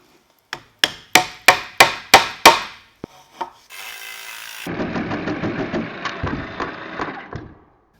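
Reciprocating saw cutting wood: a rapid, rasping, pulsing cut lasting about three seconds, preceded by a series of sharp knocks and a brief hiss, close and fairly loud.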